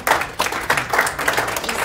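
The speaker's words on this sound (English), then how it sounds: "round of applause for those guys" Brief, sparse applause from a small audience at a county commissioners meeting, a few uneven hand claps in loose bursts at close range.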